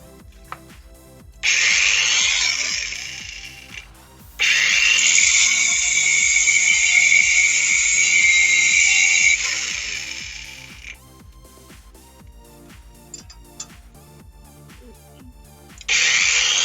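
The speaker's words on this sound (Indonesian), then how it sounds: "mending ngorbanin stutnya nih, kita gerinda dikit." An angle grinder cuts down a front car wheel stud in three loud, harsh bursts, one long stretch in the middle, with quieter gaps and faint background clicking between them.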